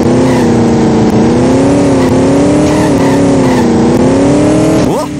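Car engine in The Simpsons Hit and Run, loud and close, droning steadily with wavering revs throughout and a sharp rev rise at the end.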